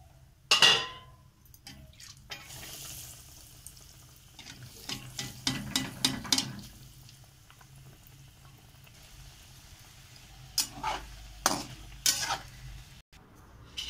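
Potato bombs (stuffed potato balls) frying in a pan, a soft broadband sizzle with occasional utensil clinks and scrapes, moderately quiet with a few louder bursts near the start and end.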